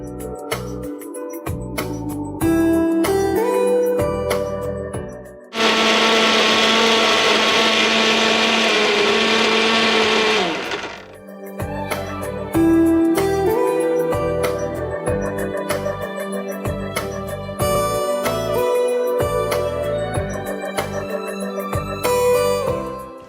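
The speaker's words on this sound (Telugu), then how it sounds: "కొన్ని వాటర్ వేసుకొని దీన్ని బ్లెండ్ చేసేసుకుందాం." A kitchen blender whirs loudly through a yogurt and seed smoothie with added water, running steadily for about five seconds amid background music.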